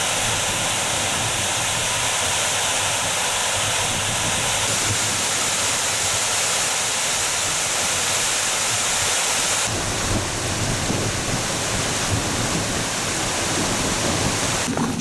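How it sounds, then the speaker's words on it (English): Wessenden Brook flows down the Wessenden Valley as a loud, constant rushing roar of water, broad and steady throughout, with wind buffeting mixed in and no voices. "The Wessenden Brook just goes down there,"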